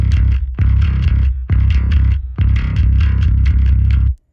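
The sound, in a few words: bass guitar with added distortion track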